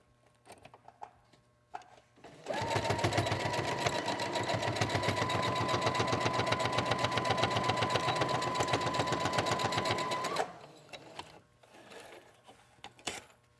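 A sewing machine stitching a quarter-inch seam on a fascinator, one steady, rapid mechanical hum and needle clatter lasting about eight seconds, close and loud, with quiet handling noises before and after.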